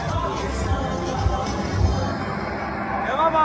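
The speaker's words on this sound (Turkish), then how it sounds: "Tezahürat yapıyoruz" Crowd at the Wagah border ceremony between India and Pakistan: a steady roar of cheering and chanting voices, rather distant and continuous, with nearer talking mixed in.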